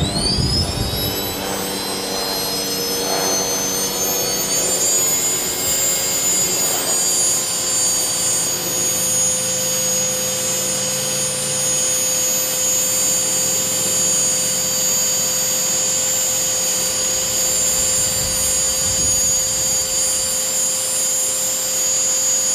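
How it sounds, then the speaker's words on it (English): Steady whining roar dominates throughout, loud and continuous with strong high tones, fitting a helicopter circling overhead near a coffee roaster; no talk. "I've got a helicopter that keeps going around and around over me."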